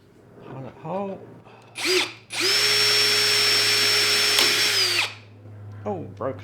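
A power drill whines at a steady high pitch for about three seconds, drilling a pilot hole in pallet wood close by, with brief bursts of talk and short tool noises around it.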